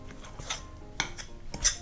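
Spoon scraping and clinking against a bowl while stirring shortbread chocolate cookie dough with flour and cocoa, in irregular scrapes and taps, close and fairly quiet, with no talk.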